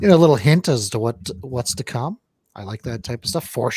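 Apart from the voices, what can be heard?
None of the usual background noises is heard.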